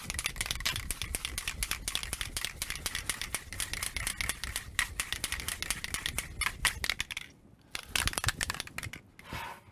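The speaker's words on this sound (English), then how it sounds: "Give it a good shake." A Krylon Matte low-odor spray paint can rattles in rapid, steady shaking for several seconds, with a short pause before the shaking resumes briefly.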